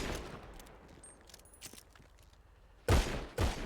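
Gunfire in a VR shooting video game, two loud sharp bursts near the end of the clip after a stretch of quieter background game sound.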